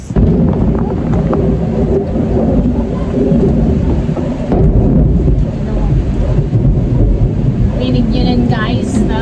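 Heavy rain pouring with low rumbling thunder during a storm, a loud dense roar close by that runs without pause, with faint voices underneath.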